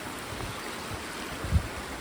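Stream water flows under a small bridge, a soft, steady babble and trickle close by, with one brief low thump near the end.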